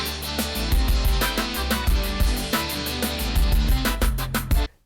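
AI-generated music from Stable Audio's model, with a dense mix of a punchy repeating drum beat, deep bass and layered tonal parts. It stays loud and steady, then cuts off abruptly at the end.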